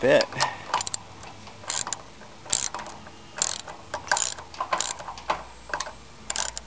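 Ratchet tightening a cable clamp on a pontoon during assembly: repeated bursts of sharp, close mechanical clicks in an irregular rhythm, with short pauses between strokes.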